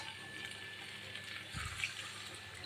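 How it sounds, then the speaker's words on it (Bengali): Water poured into a pan of sautéed vegetables, a soft, fairly faint splashing stream that swells briefly midway, alone without talk. "এবার আমি জল দিয়ে দেবো।"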